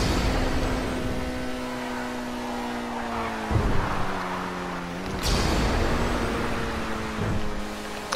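Pegassi Toreador sports car in GTA Online held at high speed, a steady loud engine drone with harmonic whine, dropping through gear shifts near 3.5 and 5 seconds before climbing again, no talk.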